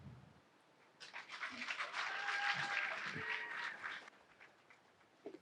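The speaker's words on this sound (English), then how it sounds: "A round of applause, a round of applause, a round of applause." Audience applause after a research presentation at a Berkeley Lab science slam, a burst of broadband clapping that swells for about three seconds and then stops abruptly, with faint talk before and after.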